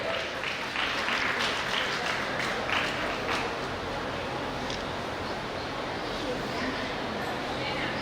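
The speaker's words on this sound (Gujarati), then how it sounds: "તાળીઓ પાડતા રહેજો મિત્રો." An audience at a school teachers' felicitation ceremony claps steadily for several seconds, a broad continuous roar of many hands heard from a distance, with voices faintly mixed in.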